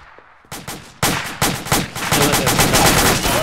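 Loud, close gunfire in a tactical combat setting: a single shot, then rapid repeated shots building into sustained automatic bursts with echoing reports, no talk over it.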